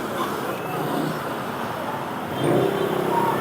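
Street traffic during a late-afternoon walk, a moderate steady hum of passing vehicles with a louder vehicle swelling near the end.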